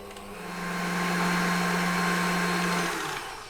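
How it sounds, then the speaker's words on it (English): A stand mixer churns gingerbread cookie dough, its motor whirring up, holding a loud steady drone for about three seconds, then winding down. "we'll pop the machine back down and we'll mix it for a little bit longer now"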